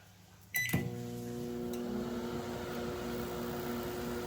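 A click and a short clatter, then a repaired LG microwave oven starts up and hums steadily with a tonal drone, close by and alone.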